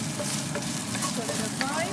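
Pork stir-frying in a pan for a stir-fried pork with green bell pepper dish, with a steady close sizzle and light scraping of stirring running throughout, no talking.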